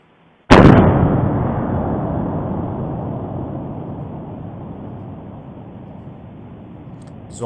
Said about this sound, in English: And then listen to this eruption.